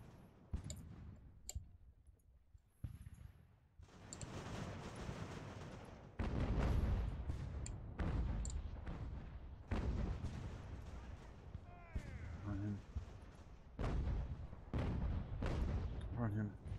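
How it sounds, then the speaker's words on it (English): Mortars fire in a naval age-of-sail battle game, producing sharp repeated reports and crackling bursts that arrive in irregular clusters. Quieter gaps separate the groups, and voices talk at several points. "Mortars, fire on him, mate."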